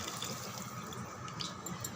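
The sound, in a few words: pouring tamarind water into pot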